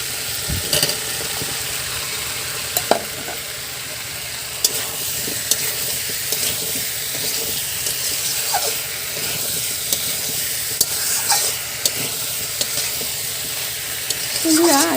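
Raw jackfruit and potato pieces fry in a pan for a Bengali jackfruit dish, giving a steady, fairly loud sizzle broken by occasional scraping stirs and clinks, with no one talking.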